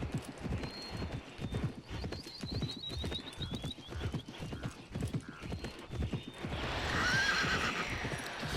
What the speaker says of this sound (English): The horse neighs every time I use this little boost.